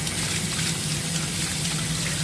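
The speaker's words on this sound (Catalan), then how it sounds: "sota l'aixeta los netegem sense por, amb aigua freda" Cold tap water runs steadily from a faucet over salmon being rinsed, a dense continuous splashing gush near the sink with no talking.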